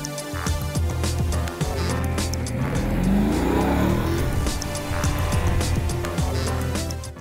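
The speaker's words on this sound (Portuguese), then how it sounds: "Então agora eu te convido para dar uma voltinha comigo nesse Audi RS5." Audi RS5 driving and accelerating hard, a loud sustained engine roar with rising revs and tire noise, close and continuous throughout with no talk.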